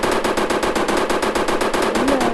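Loud, rapid automatic gunfire from a rocket launcher gun in the Indian Bike Driving 3D video game, a steady unbroken burst of closely spaced shots running throughout with no talk.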